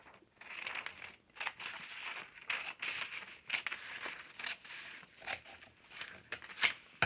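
Scissors snipping and paper rustling as a page is cut out of a composition notebook, a run of soft, close crinkly cuts at low volume with no talking.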